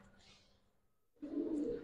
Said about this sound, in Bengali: আর এটা হচ্ছে ডিপজল ভাইয়ের কবুতর